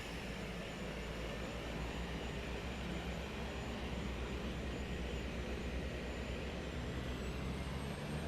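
Aircraft taking off in Microsoft Flight Simulator 2024, a steady, loud, broadband engine roar with low rumble holding constant throughout, no voices.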